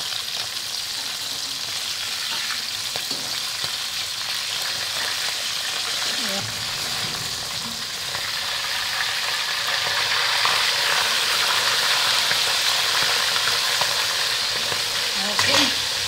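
Bisugo (threadfin bream) frying in a pan, a loud continuous sizzle and crackle with occasional stirring or scraping sounds, swelling slightly louder toward the end.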